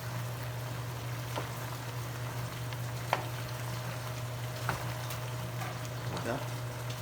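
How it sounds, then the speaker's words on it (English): Onion frying in a pan with occasional stirring, a steady low sizzle running throughout at moderate level and a few soft clicks of the spoon against the pan, with no one talking. "some onion, now I'm gonna spin it."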